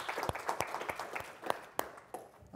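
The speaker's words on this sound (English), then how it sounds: "Let's have a nice warm applause for Kirk" Scattered clapping from a modest business-panel audience welcoming a journalism ethics speaker, a handful of distinct sharp claps, fairly faint and sparse rather than a full roar, trailing off toward the end.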